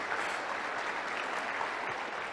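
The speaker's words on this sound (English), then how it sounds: "Ladies and gentlemen, let's give them a round of applause." A round of applause from the audience at a Retraining of Racehorses showcase, a thick, even roar of many people clapping, loud and sustained with no break.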